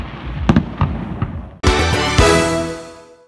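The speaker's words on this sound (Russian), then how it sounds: "А завершился День Победы праздничным фейерверком." Victory Day celebration fireworks: a few sharp scattered pops, then a loud burst with a long crackling, sizzling tail that slowly fades, heard outdoors without talking.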